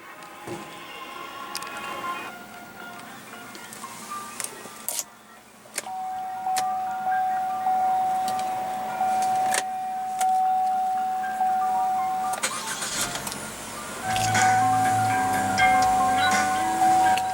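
A 2015 Chevrolet Trax 1.4-liter four-cylinder turbo engine idles steadily with a thin constant whine, punctuated by a few clicks and thumps, growing somewhat louder near the end.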